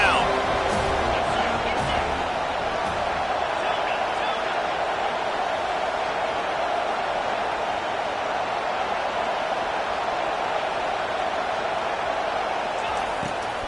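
A stadium crowd at a Florida State vs Tennessee football game gives a sustained, dense roar that holds steady throughout, with a voice faintly present beneath it.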